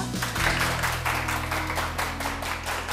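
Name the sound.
audience applause welcoming the guest speaker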